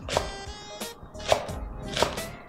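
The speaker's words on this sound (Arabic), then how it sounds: "هاخد انا هنا شويه بصل احضر وقطعه رفيع" A knife chopping red onion into thin slices on a board, a few soft separate knocks spaced irregularly, close and quiet with no talking.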